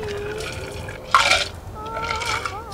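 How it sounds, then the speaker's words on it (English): Cocktail strained from cracked ice cubes into a Manhattan glass, with a short, bright splash of pouring liquid midway through, surrounded by quieter trickling and low room noise. "We're going to strain this from these lovely cracked ice cubes. Into a Manhattan glass."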